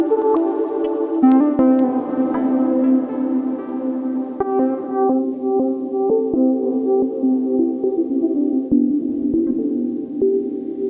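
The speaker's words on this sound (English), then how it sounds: "And here's what it sounds completely wet." Synth sent fully wet through a delay unit: sustained layered tones with repeating echoed notes smeared into a dense, muted, droning bed, loud and continuous.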